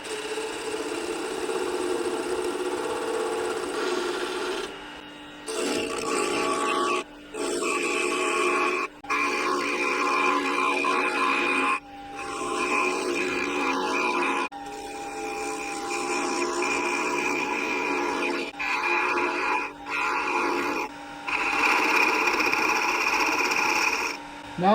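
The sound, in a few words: wood lathe turning a Christmas ornament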